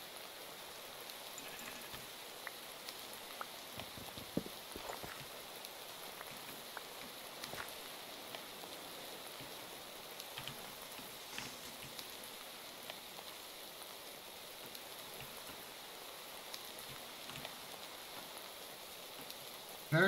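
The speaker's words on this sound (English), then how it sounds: "Very relaxing rain noises." Steady rainfall in the game Minecraft, playing on a modded hardcore survival world; a soft, even patter of drops continues alone throughout, fairly faint and unbroken by speech.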